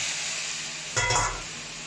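A steady close sizzle of squid frying in a pan, swelling into a brief louder hiss as something is stirred or added, then settling back.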